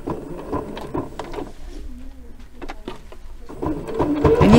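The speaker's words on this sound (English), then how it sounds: "So I'm just going to start sewing it." A sewing machine stitches fabric in short mechanical bursts, starting and stopping, then running faster and louder toward the end, up close in a quiet room.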